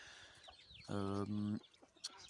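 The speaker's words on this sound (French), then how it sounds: "on entend gueuler un peu la canne" A single loud, harsh honking call from a female duck, repeated in two quick bursts, close by over faint background noise.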